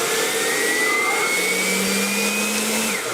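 A HEIMERDINGER LB 112 cordless battery leaf blower runs steadily and loudly at close range with a constant high whine, holding one even tone throughout with no voices.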